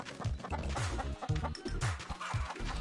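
Chickens cluck and squawk while being handled and moved, their short repeated calls close and busy over a cluttered background with scraping and a dog faintly barking.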